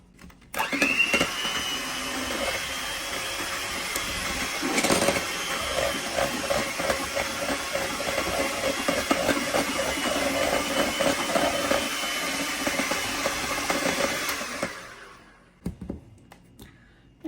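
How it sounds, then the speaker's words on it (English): A handheld electric mixer beats eggs in a bowl, a steady loud whirring drone running continuously for about fourteen seconds before stopping. "So I'm going to use my handheld mixer and beat the eggs a little bit."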